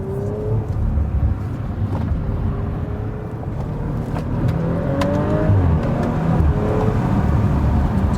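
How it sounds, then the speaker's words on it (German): Audi RS5 with a 2.9-liter V6 biturbo engine heard from outside under load, a steady loud engine roar with rising whine as the turbochargers build boost, continuous and fairly close. "dann hören wir von außen die Turbolader, wie sie richtig Druck aufbauen"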